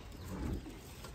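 Pairs of grey pigeons at a breeder's loft give soft, low, continuous cooing, close by and alone.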